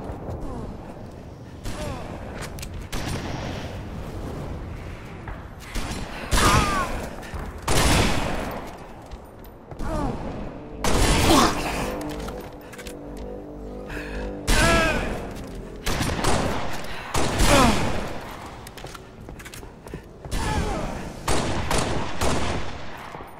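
Heavy shotgun-like blasts and rapid firing bursts come in uneven clusters during a fast video game match, separated by short lulls. Announcer-style voice callouts sound between the shots.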